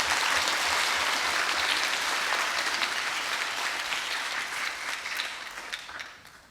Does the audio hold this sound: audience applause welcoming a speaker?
yes